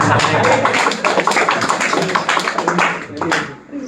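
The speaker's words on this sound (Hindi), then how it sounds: "ताली वाली बजाओ बे।" An audience at a Bhagavad Gita lecture claps loudly and densely for a few seconds, with voices mixed into the applause.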